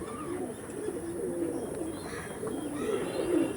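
Chennai blood pigeons coo in soft, rolling repeated calls, several birds overlapping nearby in a loft with a faint steady background hiss.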